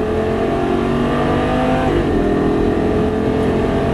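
A loud, high-revving Lamborghini Gallardo engine on a race track, its pitch climbing steadily, then dipping briefly and surging again as it accelerates hard.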